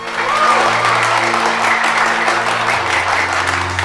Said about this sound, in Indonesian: Gue minta tepuk tangan buat polisi Indonesia yang selalu menjaga keamanan di Indonesia.